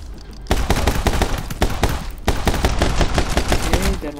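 Rapid bursts of gunfire from the action shooter video game My Friend Pedro, loud and dense, with repeated sharp shots in quick volleys across the whole stretch.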